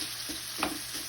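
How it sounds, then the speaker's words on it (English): Frozen corn sizzles steadily in a pan with a broad, constant hiss, while brief scrapes of stirring come through over the frying. "You're going to hear it sizzling a lot because my corn was frozen."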